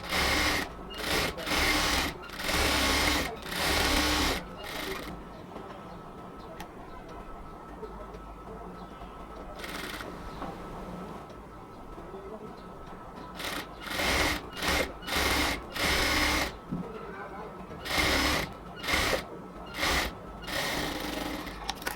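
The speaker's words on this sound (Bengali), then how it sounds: "একদম 1 ইঞ্চি বরাবরকে আমরা ডাবল করে ধরে আস্তে আস্তে সেলাই করব, যাতে এই সাইডটা খুব সুন্দরভাবে সেলাই হয়।" A sewing machine slowly stitches the doubled side border of a luxury cotton kameez, running in repeated short bursts with pauses between them, close and loud with no talking.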